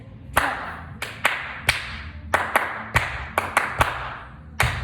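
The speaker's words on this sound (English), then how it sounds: "Notice the accents, or the parts of the clapping where you hear me going a lot louder" Flamenco hand clapping marking a 12-count pattern, a single performer striking sharp, close claps in an uneven rhythm with some beats hit noticeably louder as accents.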